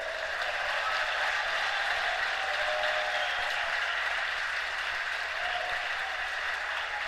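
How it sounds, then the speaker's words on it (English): Sustained applause from an audience welcoming a squash player at a fight-night exhibition event in Houston, steady and dense clapping throughout, fairly loud, with no voices over it. "Please welcome, with great round of applause, Gregory Gaultier."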